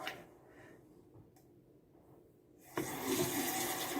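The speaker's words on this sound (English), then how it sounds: "rinse off my gloves" A tap turns on partway through to rinse off gloves, following a quiet lull, then water gushes and splashes nearby in a steady, bright flow.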